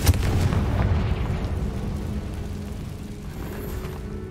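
A Confringo fire spell explodes in Hogwarts Legacy inside a cave, as a sustained, loud, rumbling blast with low booming texture that fills the whole stretch and fades slightly toward the end.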